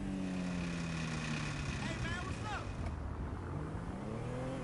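A car engine from the video game GTA hums steadily, its pitch shifting as it revs and eases off, with a voice talking faintly underneath.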